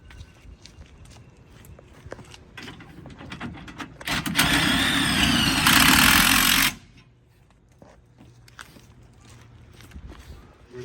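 A loud, steady whirring of a power drill running the stabilizer jacks of a 2022 Forest River 26DBH-BL RV for a few seconds, then cutting off abruptly, with quieter clanks and shuffling before and after.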